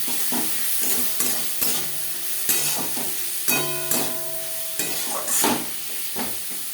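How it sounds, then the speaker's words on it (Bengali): Fish curry masala of onion, tomato, salt, turmeric, ginger paste and green chilli paste stirred in a pan, with repeated spatula scrapes over a soft continuous sizzle, close and steady. "পেঁয়াজ টমেটোর সাথে বেশ ভালো করে মিক্সড করে দেবো দু তিন মিনিট নাড়াচাড়া করে নেওয়ার পর"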